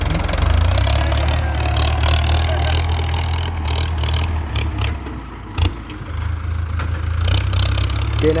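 A Ford farm tractor's engine runs steadily while pushing soil to build up paddy-field bunds, its loud low rumble continuous throughout with scraping and clattering from the work mixed in.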